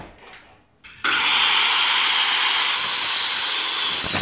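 A power saw cuts through new plywood during a subfloor job, starting abruptly after a brief quieter moment and then holding a loud, steady, close whine with grinding wood noise.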